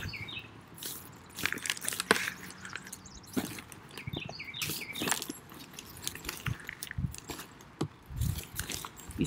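A dog chews on a stick close by, producing irregular small snaps, cracks and gnawing clicks scattered through a quiet outdoor scene, with no one talking.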